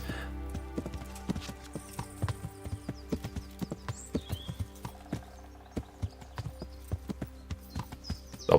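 Steady, rhythmic clip-clop of a horse's hooves on a road in the medieval video game Kingdom Come: Deliverance, moderately close and running continuously over a low ambient music bed.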